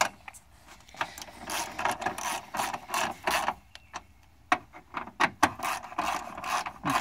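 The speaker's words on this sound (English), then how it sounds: "Now we'll just tighten the screws on top." Headlight screws on a 2004 Land Rover Discovery Series 2 are tightened by hand, giving a close, irregular series of small clicks and ratcheting turns with brief pauses between.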